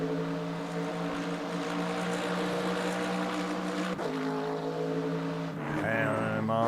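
A Mercedes race car engine in the Le Mans Ultimate racing game at Circuit of the Americas, a steady high-revving tonal whine that shifts abruptly through gear changes near the end, with faint background commentary.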